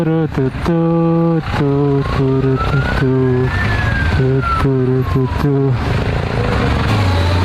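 A motorcycle engine revs in repeated short bursts, its pitch climbing and falling with each twist of the throttle, loud and close, while people talk over it.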